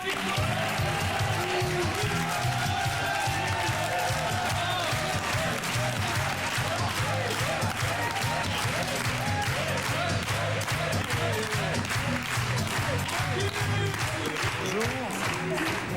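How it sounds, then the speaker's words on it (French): A French television studio audience applauds a comedian guest, with dense, continuous clapping and crowd noise held at a steady loud level for the whole stretch, mixed with music or voices underneath. "Applaudissements pour Francky, s'il vous plaît."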